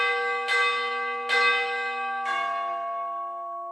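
Playback of the last few measures of a rewritten version of a piece, three struck bell-like chords with ringing overtones, each decaying slowly into the next, clear and unaccompanied by talk.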